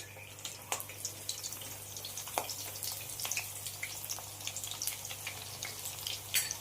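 Muthia dumplings, dropped one at a time into hot oil, fry with a steady soft bubbling and faint crackle, steady and close without talk.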